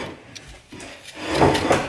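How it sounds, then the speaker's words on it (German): Chairs are slid and shifted back into place indoors, a few scraping, knocking wooden movements that grow louder toward the end, nearby with no talking. "Carla räumt hier gerade die Stühle wieder her"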